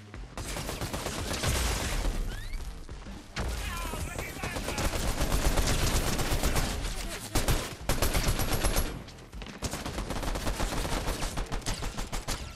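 Dense, continuous pistol fire in the battle royale game Fortnite, rapid loud shots in fast rhythmic bursts with brief gaps, layered with other game sounds and some overlapping voice.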